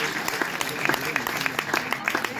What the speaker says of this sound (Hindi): जोरदार तालियां एक बार हो जाए